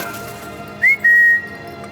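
A man whistles a short rising note and then holds a long steady tone, clear and close against a quiet background.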